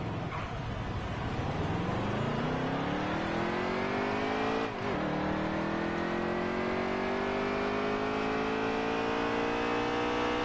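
A NASCAR Xfinity Series race car engine revs and climbs through the gears on a Daytona qualifying run in the video game NASCAR Heat 3, rising steadily in pitch with one brief shift dip, loud and close throughout.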